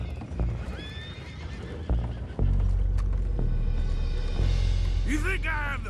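Horses whinny loudly and hooves clop in Red Dead Redemption 2, amid a busy outdoor scene with voices talking over the animals; a shrill neigh rises near the end.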